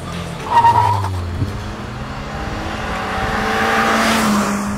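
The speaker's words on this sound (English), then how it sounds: "A rotty exhaust note for the son to enjoy when he sneaks his dad's Santro out." A Hyundai Santro's 4-cylinder engine with a raspy exhaust note, revving loudly at the start before settling into a steady, rising drone as the car pulls away, with no voices over it.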